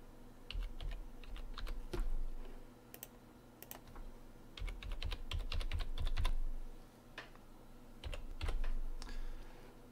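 Fingers tapping out an account number on a computer keyboard, a steady run of close, light clicks in short uneven bursts with brief pauses, alone without talking.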